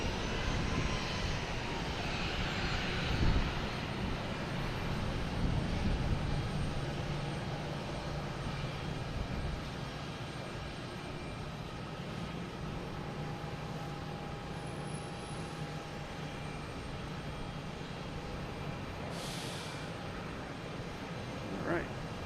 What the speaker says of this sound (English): All right, we have Delta 8220 heading to Chicago.